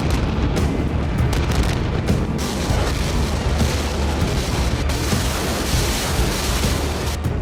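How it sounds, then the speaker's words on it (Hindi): Continuous heavy booming and rumbling blasts from artillery guns and multiple rocket launchers roll on without pause, dense and loud. "रेड आर्मी की तोपें गरज रही थी। मल्टी रॉकेट लॉन्चर अंधाधुंध बारूद उगल रहे।"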